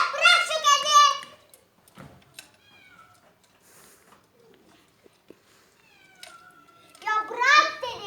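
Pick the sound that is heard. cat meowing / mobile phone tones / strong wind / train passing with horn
cat meowing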